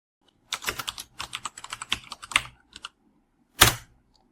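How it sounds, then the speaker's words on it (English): Bursts of typing on a computer keyboard, close and clear, with quick irregular keystrokes in clusters, a short pause, then one final sharp key press. "Here, you can type your own message directly."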